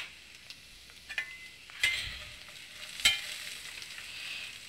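Carrots frying in a pan with salt while being stirred for a vermicelli noodle recipe, a steady soft sizzle punctuated by a few clinks and scrapes of the utensil against the pan.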